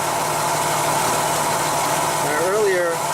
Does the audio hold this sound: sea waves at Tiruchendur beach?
no